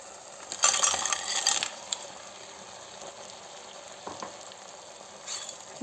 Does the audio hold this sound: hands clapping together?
no